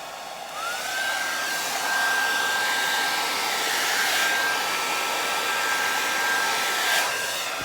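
A hair dryer blows steadily and loudly across a wet acrylic paint pour on canvas, with a high whine over a continuous rush of air and no talking.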